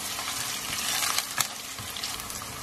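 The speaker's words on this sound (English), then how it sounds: "Next goes in my freshly crushed ginger and garlic. Just mix that through till it releases all its beautiful aroma." Freshly crushed ginger and garlic sizzling in hot oil while being stirred, a dense, bright, steady frying hiss with occasional scraping accents from the spoon, close and alone.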